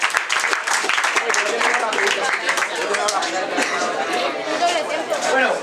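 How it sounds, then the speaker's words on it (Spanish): A crowd at a 2019 freestyle rap battle tournament claps and cheers loudly and continuously, with babble and shouting mixed into the applause throughout. "un aplauso para los dos."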